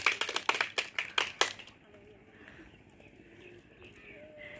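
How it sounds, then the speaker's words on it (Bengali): A short run of sharp, close hand claps from a small group, loud and rhythmic for about a second and a half, then dropping away into quiet room tone with faint voices. "হাততালি।"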